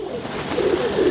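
Rooftop pigeons give low, rolling coos, two or three soft phrases in quick succession, nearby and unaccompanied by speech.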